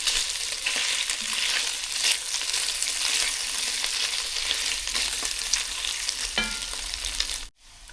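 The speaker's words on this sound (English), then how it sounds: "So starting the meat. So I don't put any oil, just only the meat oil I'm using." Meat for pancit bihon fries in its own rendered fat with no added oil, a dense, close, continuous sizzle with occasional spatters that drops out abruptly at the end.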